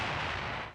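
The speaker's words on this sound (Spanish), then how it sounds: "Disparo de bazucas en una ciudad alemana." Bazooka fire in a German city during the Second World War: a loud, dense burst of blast noise holding steady for under a second before tailing off slightly, with no talk over it.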